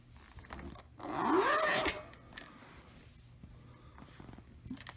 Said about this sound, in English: for your Concept, you need access to your bag by this big zipper right here